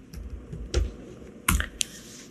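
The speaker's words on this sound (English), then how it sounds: "in the search box, I will type buffer." A word is typed into a computer search box, sparse and distinct keystrokes with a couple of louder taps, close and clear against quiet background hum.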